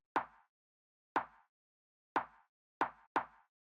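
A dry rim shot drum sample plays alone, five short sharp clicks with a woody knock, fairly quiet and close, evenly spaced then two coming quickly together at the end.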